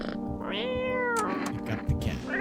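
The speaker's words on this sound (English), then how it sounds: "Pet the cat." A cat in a video game meows close and clear, one drawn-out rising-and-falling cry followed by shorter chirpy mews, with faint game ambience underneath.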